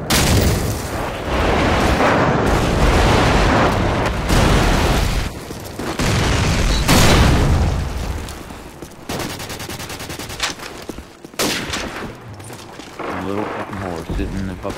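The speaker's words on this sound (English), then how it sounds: "Friendly airstrike on the way!" Airstrike explosions and gunfire in Call of Duty 4 online multiplayer, loud rolling booms and dense shooting filling the scene in long bursts, with voices talking throughout.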